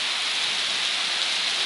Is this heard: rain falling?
yes